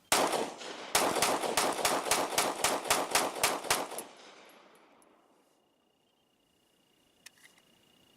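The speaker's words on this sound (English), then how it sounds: "He's going to shoot some with the ETS mags." A Glock 43 pistol fitted with an ETS 12-round magazine fires about fourteen rapid shots in a fast steady string, loud and close, then stops and the echo fades into near silence.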